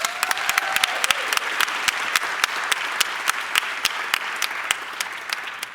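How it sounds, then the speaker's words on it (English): Indoor audience at a women veterans health seminar applauds steadily, a dense wash of many hands clapping with sharp individual claps standing out throughout, no voices over it. "let's go ahead, just as a collective, give them all a round of applause"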